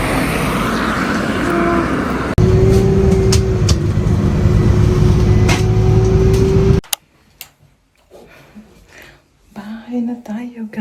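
Bus ride with a steady engine rumble and road noise inside the vehicle, loud and continuous for several seconds before giving way to quieter sounds and soft talk.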